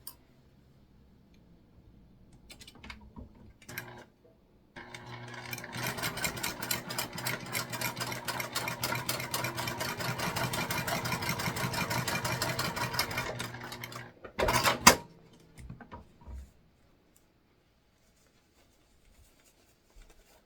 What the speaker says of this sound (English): we're going to go ahead and sew down both sides that are clipped at about a 1/4 inch seam allowance